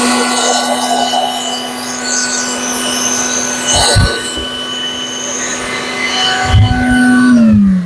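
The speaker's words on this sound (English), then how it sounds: "It's got a vacuum on it that you put in there. Hang tight, I'm going to suck out all the shit on it." An attached vacuum sucks wood chips out of a woodworking tool, a steady loud whine with a constant hum, broken by occasional rattles and clunks as debris passes through.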